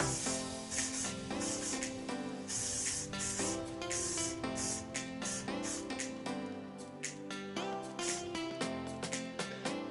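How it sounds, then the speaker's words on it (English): Short bursts of aerosol spray hiss repeat over steady background music, the spray close and fairly loud. "I'm just going to spray a little bit of hairspray on it"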